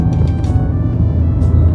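Cabin noise inside a Skoda car driving on a rough road, a loud, steady low rumble and hum without pause throughout.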